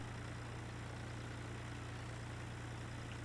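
A combine harvester engine in the farming game Farm Simulator 2013 runs with a steady low drone, constant and unchanging throughout, with no voices.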